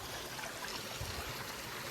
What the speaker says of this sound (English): there's another spring coming out this side